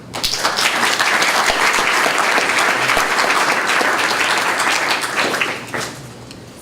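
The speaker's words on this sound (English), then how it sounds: "Can you kindly clap again for the ladies that were up on stage?" An audience claps for the women who were on stage at a 2018 YALI medical issues panel, with loud, dense applause sustained for several seconds before quickly tapering off.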